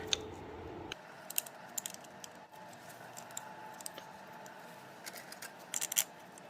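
Bolts are fitted by hand into the intermediate shaft of a 1997–2012 Honda Accord or Prelude, with faint metallic clicks and small scrapes at close range in a quiet workshop.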